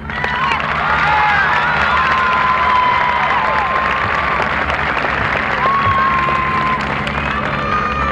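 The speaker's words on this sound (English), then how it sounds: "A round of applause, please." A crowd at a 1990 high school commencement applauds the graduates, loud sustained clapping mixed with cheers and excited shouts and whistles from the stands, continuing without a break.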